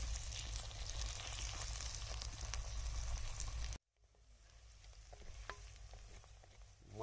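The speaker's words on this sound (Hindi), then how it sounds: "पहले प्याज की मैंने भुनाई की है, बाद में मैंने भिंडी डाली है। अब भिंडी को फ्राई करेंगे" Okra and onions frying in a pan: a loud, dense sizzle that cuts off abruptly halfway, then returns quieter with occasional light pops and scrapes.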